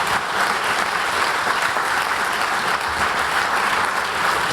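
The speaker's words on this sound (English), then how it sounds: "anybody ready to give some applause to Johannes Aleš and" An audience at a youth award ceremony claps for the winners, a loud, dense and sustained wash of applause that stays even throughout, with no speech on top.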